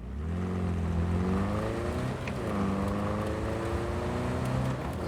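Car engine from the video game Cyberpunk 2077 driving steadily, a smooth droning motor with gently rising and falling pitch, close and continuous, with no voices.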